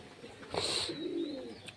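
A pet pigeon in a home loft gives a soft, rolling coo that swells and fades over a couple of seconds. A thin high whistle sounds at the same time, and no voices are present.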